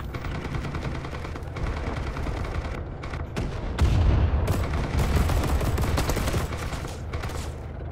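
A Lahti-Saloranta M/26 light machine gun firing in a Winter War battle game, loud rapid bursts and single shots close by, over a constant roar of surrounding gunfire and explosions.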